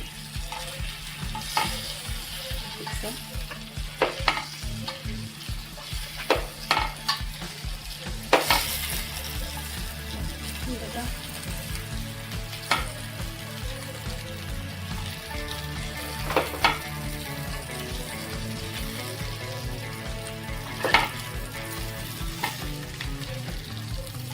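Stuffed bell peppers sizzling and frying steadily in a pan while they are turned over, with a few soft scraping and clinking knocks from the flip.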